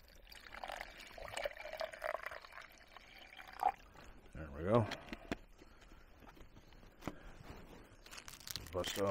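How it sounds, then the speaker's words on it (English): Water poured into a cup to mix an orange drink from a kit: a faint, short trickling pour amid quiet rustling and crinkling, with low talk in the background. "We're gonna mix up this orange beverage in my cup here."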